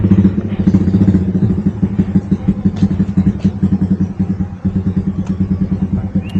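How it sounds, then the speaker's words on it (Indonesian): A motorcycle fitted with a loud aftermarket exhaust rumbles close by in a rural village area after a bridge, its low throbbing engine note steady and continuous across the whole stretch. "Ini ada suara motor begadang-begadang, itu suara knalpot brong"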